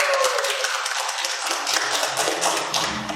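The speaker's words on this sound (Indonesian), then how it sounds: "kasih tepuk tangan yang meriah untuk bintang tamu kita" Guest stars on a podcast set get a round of applause: a dense, steady patter of clapping from a small audience that fills the whole moment without letting up.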